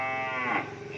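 A French-breed cow at a cattle farm lets out a short, low moo, close and fairly loud, the call rising then fading within a second.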